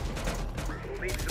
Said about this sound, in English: His building is being shredded by heavy fire.